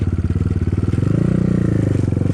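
A BSE 250 enduro motorcycle rides through a forest, its engine a loud, close, pulsing thrum with rapid regular firing beats that rise slightly in pitch midway.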